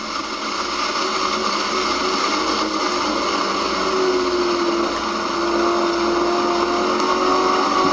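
Lingenfelter Camaro Z28 with nearly 700 hp climbing uphill on a race track, a loud sustained engine drone with a rising tone and steady roar throughout, heard from inside the car.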